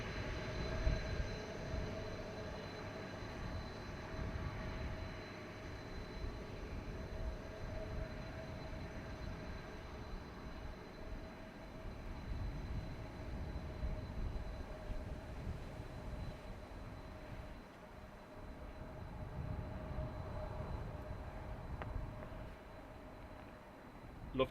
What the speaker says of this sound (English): Lufthansa from Frankfurt in the background.